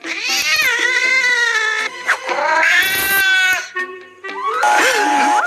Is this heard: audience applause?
no